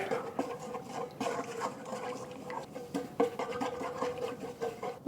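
Repeated soft clinks and scraping as bouillon and water are stirred in a bowl, an irregular mixing rhythm close by.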